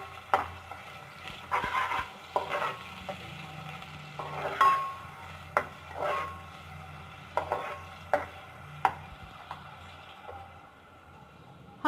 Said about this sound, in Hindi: प्याज शामिल करने के बाद इसे हम हल्का सा फ्राई करेंगे।